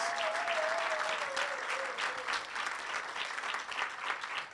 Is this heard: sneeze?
no